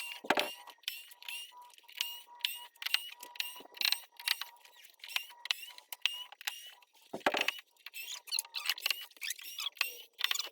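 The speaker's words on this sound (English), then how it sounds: "let's get this box open" A cardboard box being opened by hand: a close series of scraping, creaking and rustling bursts with sharp tearing squeaks, irregular and fairly quiet, with no speech.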